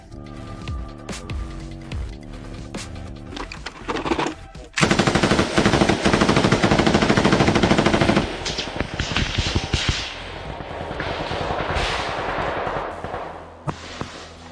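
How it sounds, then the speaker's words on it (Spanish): Gunfire erupts during an assault on trenches in Kursk: scattered loud shots, then a dense sustained burst of automatic fire, followed by continuing rapid shots that fade toward the end. "La serie de disparos destrozó las defensas rusas."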